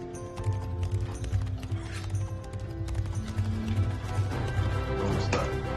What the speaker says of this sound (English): Let me get back on my horse.